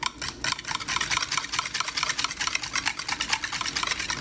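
Yogurt is whisked hard in a bowl, giving a fast, steady run of close, crisp whisk strokes that repeat evenly without a break and with no talking.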